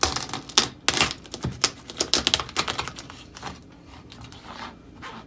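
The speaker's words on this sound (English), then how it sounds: "Get a sharp knife and you want to cut this along the middle in half" A sharp knife saws through a raw lobster tail and shell on a cutting board, giving a run of crisp cracking and crunching clicks in quick irregular bursts that fade to quieter scraping, with no talking.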